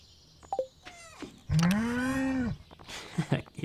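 A cow from the Stardew Valley farming game lets out a single drawn-out moo lasting about a second, with a few softer game sounds scattered before and after.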